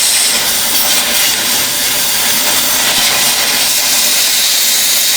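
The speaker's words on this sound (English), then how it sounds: "But I got to get up in there with the torch." A cutting torch hisses steadily while cutting a part out from under a Jeep in tight quarters, a loud, continuous broadband rush lasting the whole stretch with no pauses and no voices.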